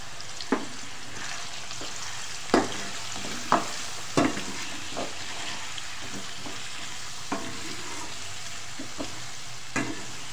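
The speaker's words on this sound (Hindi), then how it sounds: "आलू फ्राई हो रहे हैं। अब साथ ही इसमें हम डाल देंगे हल्दी।" Potato pieces fry with turmeric in a pan for an aloo soya chunks curry, giving a steady close sizzle. Sharp spoon scrapes and knocks come through several times over it, and no one speaks.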